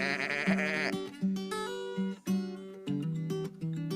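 Several sheep in a flock bleat in overlapping, wavering cries, close and fairly loud, one call following another with short gaps and no talking.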